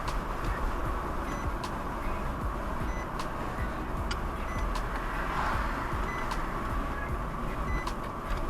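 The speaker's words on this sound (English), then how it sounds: "Put on my seatbelt and get rid of that beep beep sound," A car's seatbelt warning chime sounds as a series of short, regularly spaced beeps over steady road and engine noise inside a moving vehicle in Jamaica.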